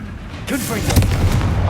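A Confringo blasting spell bursts with a sharp, loud boom in Hogwarts Legacy, followed by a rumbling tail and scattered crackling impacts under continuing game noise.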